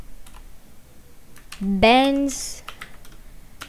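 Computer keyboard keys click in scattered light taps, close and quiet, with a short spoken phrase in the middle.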